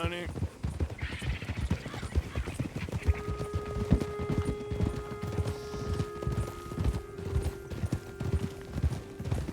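Horse hooves clip-clop steadily while riding, a rhythmic clatter mixed with people talking and a sustained musical tone.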